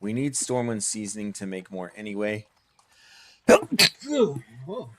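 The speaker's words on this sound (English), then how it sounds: "That was a sneeze" A single sharp sneeze bursts out between stretches of close, clear talking during a World of Warcraft Classic livestream, with speech resuming right after it.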